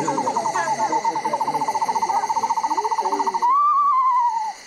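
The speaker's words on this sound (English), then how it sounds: "This is the call of an eastern screech owl." A played recording of an eastern screech owl: a fast, evenly pulsed trill running for several seconds, then a longer wavering whinny, fairly loud and clear against quiet surroundings.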